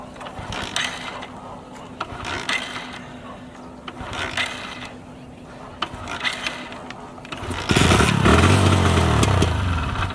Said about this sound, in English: So come on now, let's start the bike and see.